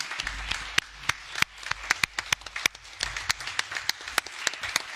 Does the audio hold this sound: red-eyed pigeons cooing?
no